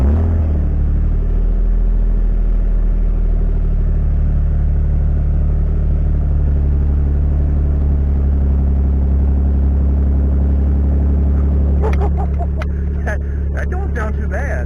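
A 2013 Toyota Sienna with its muffler deleted starts cold and settles into a steady, loud, deep idle rumble close by, with some clattering noises near the end.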